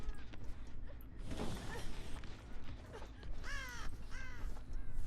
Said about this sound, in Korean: 까마귀가 돌아왔는데